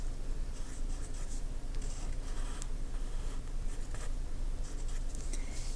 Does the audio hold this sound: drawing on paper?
yes